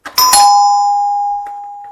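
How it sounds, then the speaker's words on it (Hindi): An electric ding-dong doorbell at a home entrance chimes once when its button is pressed: a bright, loud two-tone strike that rings out and fades slowly, heard alone and close. "इसको दबाएंगे ये बजने लग रही है, ये डिंग डोंग करने लग रही है।"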